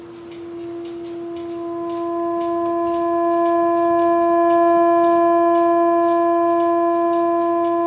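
An 1860 Prince reed organ, restored and pedal-powered, holds a steady sustained chord that gradually swells from soft to loud over several seconds, with no voices.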